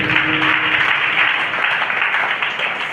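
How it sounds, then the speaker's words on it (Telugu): A church congregation claps loudly and steadily during a sermon, a dense wash of applause that holds at full strength throughout. "చప్పట్లు కొడుతూ గట్టిగా."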